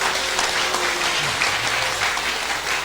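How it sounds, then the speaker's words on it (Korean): Church congregation applauding together in a sustained, steady burst of clapping that fills the room throughout, with no talking over it. "박수 한번 해주시기 바랍니다."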